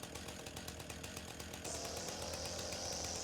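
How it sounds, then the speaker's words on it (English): A spider lawn trimmer runs in the Farming Simulator 19 video game, giving a quiet, steady buzzing engine drone with a fast pulsing rhythm that brightens and grows slightly louder partway through. "Spider lawn trimmer does whatever a spider lawn trimmer does."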